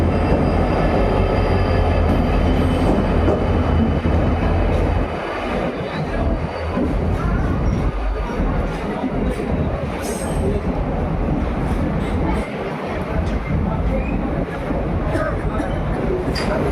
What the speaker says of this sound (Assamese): কি কথা ট্ৰেইনখন আহি গ'ল আমাৰ এয়া